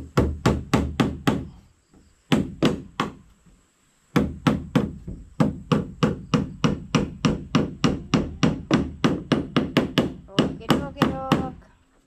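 Nails hammered while building a nipa hut, sharp ringing blows in fast rhythmic bursts of several strikes, separated by short pauses, close and loud.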